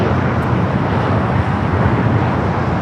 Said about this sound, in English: 737 at max 8 taking off.